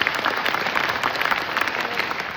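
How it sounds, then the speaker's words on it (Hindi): A crowd applauding steadily at a live stage poetry event, dense clapping that holds at an even level throughout, with no voices standing out. "एक बार तालियां बजाइए इस मंच के लिए।"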